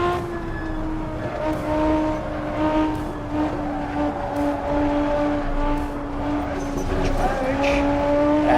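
Light GT430 race car in a sim racing game on a Volvo-built simrig: a steady, loud engine drone holding a sustained pitch, with slight rises and occasional tire noise, running continuously throughout.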